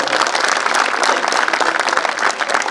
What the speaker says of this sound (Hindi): जोरदार तालियों करोगे।